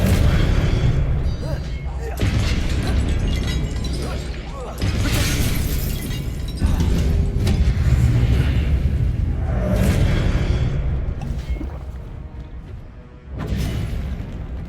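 Magic spells such as Incendio and Expelliarmus cast in a Harry Potter-style video game, giving repeated booming, whooshing bursts and crackling impacts over a dense, continuous game soundscape, with speech mixed in.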